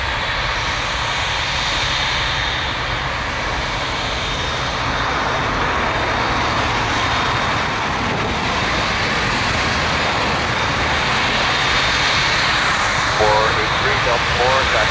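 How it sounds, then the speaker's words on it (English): Air Canada Boeing 787 Dreamliner jet at Toronto Pearson, a steady, fairly loud engine roar that holds throughout, with a voice talking over it. "Air Canada 101 to Vancouver on a Dreamliner"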